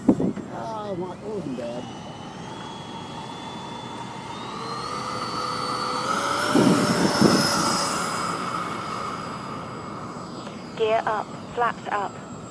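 A Freewing MiG-21 RC model jet on its first flight, a rising turbine whine that builds and climbs in pitch as it takes off, with people talking nearby throughout.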